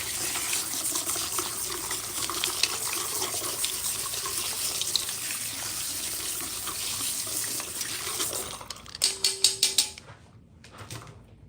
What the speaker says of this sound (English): let's go ahead and rinse our combs and everything.